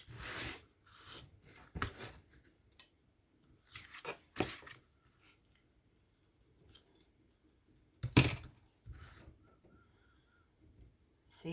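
Scissors cut a paper doll dress, giving a handful of short, crisp snips and papery rustles scattered across a quiet background, close by and fairly soft.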